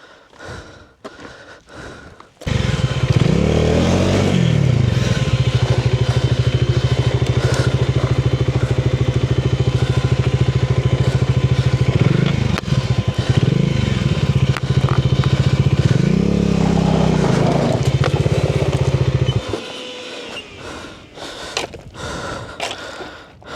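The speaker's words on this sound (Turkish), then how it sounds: "Şuraya bir alsam motoru." A motorcycle strains up a steep, rough mountain forest road toward a stone house, its engine loud, close and continuous for most of the stretch, revving and labouring with a few surges before cutting out.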